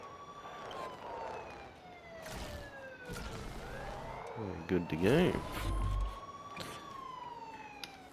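Emergency vehicle sirens from a Trailmakers video game build wail and sweep up and down continuously, with a voice briefly speaking and some clunky game noises in the middle.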